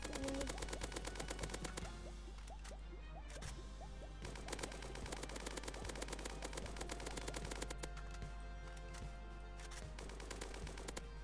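Rapid, sharp automatic rifle fire in the video game Dusty Trip, long sustained bursts of evenly spaced shots with short pauses between volleys, loud and close.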